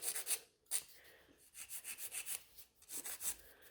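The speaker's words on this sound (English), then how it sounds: "Then file all over, just to give it a couple scratches." Gel nails being filed with a nail file in a salon, giving quick rasping strokes in short bursts, close and fairly loud, with brief pauses between passes.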